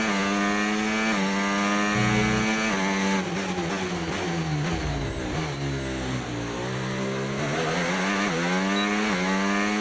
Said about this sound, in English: I like the new engine sounds. They're a bit more raspy.